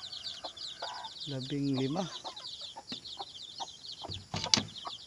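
Chickens and chicks in a clean coop, a close cluck with shrill peeping chicks throughout, while someone talks over them.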